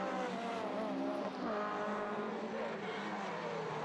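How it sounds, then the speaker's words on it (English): Vauxhall Nova and Toyota MR2 rallycross cars racing at Maasmechelen in Belgium, engines droning steadily and loudly with shifting pitch as they pass at close range, no voices heard. "There comes the Vauxhall Nova and the MR2."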